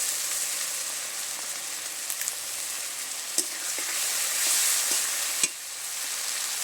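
Two or three bay leaves drop into hot oil with ginger, garlic, cumin and coriander pastes, giving a steady close sizzling hiss with a few small pops and clicks, and no voices.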